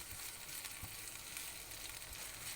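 Chicken and vegetables sauté in a pan for stir-fried noodles, giving a faint, steady sizzle with small crackles throughout.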